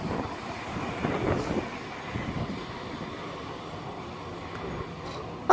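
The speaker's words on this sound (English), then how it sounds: "And there goes another tram." An Edinburgh tram passing at Edinburgh Park station, a moderate rolling rumble with a couple of brief swells, heard alone without speech, ending with a sudden sharp noise.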